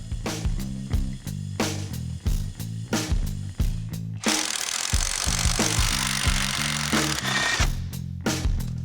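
Impact wrench or ratchet tool removing the upper strut nuts on a Ford Crown Victoria, loud close bursts of rapid hammering in a repeated rhythm, with a longer sustained hiss of air in the middle.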